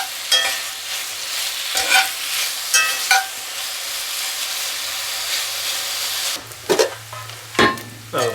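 Bacon fries in a pan until crispy, giving a continuous sizzle and hiss. Scraping and stirring strokes break through it, with a burst of louder spatter near the end.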